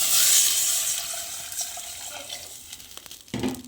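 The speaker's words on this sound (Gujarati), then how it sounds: "આ રીતે નાખી દઈશું પાણી" Water pours into a hot cooking pan of spiced mixture for Gujarati rasiya bhaat, a loud bright hiss that fades into softer bubbling and a few clinks, ending with a short low splash, close up with no talking.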